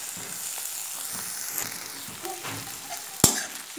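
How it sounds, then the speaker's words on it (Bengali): Chopped onion and tomato fry together for a shrimp curry, a soft continuous sizzle with occasional spatula scrapes and one sharp clank near the end. "পেঁয়াজ আর টমেটো কুচিটা একসাথে আমি একটু ভেজে নিব।"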